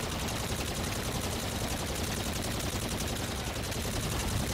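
Nonstop automatic gunfire from a Call of Duty zombies boss fight, a dense, unbroken roar of rapid shots that holds at a steady loudness from start to finish, with no voices over it.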